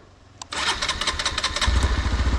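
A motorcycle that has fallen over in soft mud in a wildlife sanctuary cranks with a sharp click, then fires and settles into a loud, close, rapidly throbbing idle that grows heavier and rumbling.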